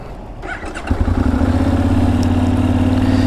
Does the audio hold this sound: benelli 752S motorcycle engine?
yes